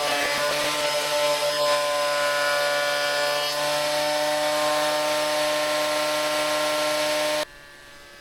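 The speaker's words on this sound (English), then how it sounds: "I run each one through the top planer, or the jointer if you're American" A reclaimed pallet-wood board is fed through a planer, giving a loud, continuous, steady machine whine with a grinding edge that cuts off abruptly near the end, with no talk.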